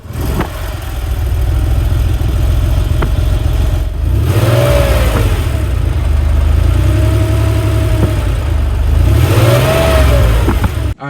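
A Porsche 911 3.2 Carrera Targa with an air-cooled 3.2-litre flat-six, loud and close, idling roughly then revving hard in three rising-and-falling blips, with the exhaust note settling back to idle between them.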